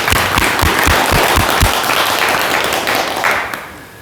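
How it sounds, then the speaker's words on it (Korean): Audience applause at a health lecture, with a few distinct claps up front blending into a broad wash that fades out toward the end. "큰 박수 부탁드립니다."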